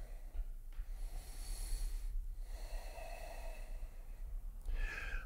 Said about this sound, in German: Tiefer atmen.